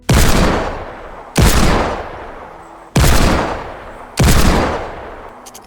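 Four loud, booming hand cannon gunshots in a video game fire at a slow, even pace, each echoing and fading before the next.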